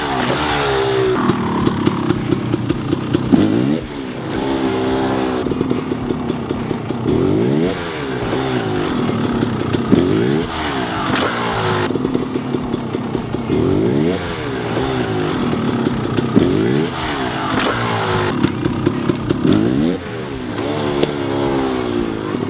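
A KTM 300 two-stroke dirt bike fitted with a Lectron carburetor revs and accelerates hard, loud and close, with repeated throttle blips and sustained pulls rising and falling in pitch, crisp and without bogging.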